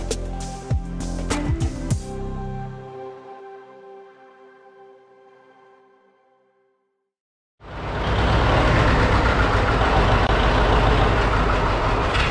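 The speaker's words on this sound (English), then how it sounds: "I just started it back up again. And just to try the pony engine out again." A tractor's pony engine hums and winds down to silence, then fires up and runs with a loud, steady, rough roar until the end.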